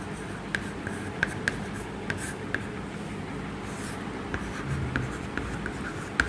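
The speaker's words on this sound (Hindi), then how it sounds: "हम इसको यहाँ पे लिखते हैं।" Chalk writing on a classroom board, a steady series of short scratchy taps and strokes, fairly close but faint, with soft room noise between them.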